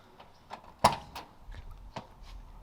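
Power door locks retrofitted to a Nissan Hardbody D21 pickup unlock by remote, giving one sharp, close actuator clunk followed by a few lighter mechanical clicks and taps.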